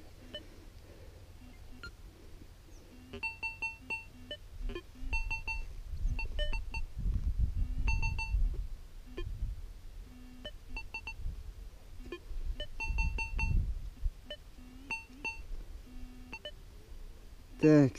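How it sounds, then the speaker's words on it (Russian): Repeated short electronic beeps from a metal detector swept over a dig pit in hot weather, coming in irregular bursts of several tones, with a voice talking and breathing heavily in between. "Еще какой-то сигнал из шурфа."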